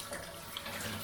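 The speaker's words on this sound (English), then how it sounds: "Let's wash my hands" Tap water runs steadily into a sink for hand washing, a soft continuous hiss and splash at moderate level with no talking.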